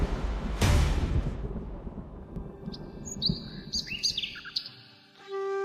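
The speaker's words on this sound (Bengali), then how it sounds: "পাখির ডাক শোনা যাচ্ছে।" Birds chirp at dawn after a deep rumbling thunder-like boom fades out, with several short, clear tweets and whistles rising in sequence, fairly faint and alone.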